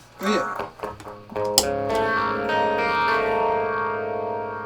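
An electric guitar through a vintage MXR phaser pedal plays a few clean picked notes and then a sustained chord, swirling with a sweeping, echoing modulation effect.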